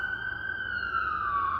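A police siren wails steadily in a single drawn-out tone, moderately loud and passing nearby on a city street in downtown Brooklyn, with no talking over it.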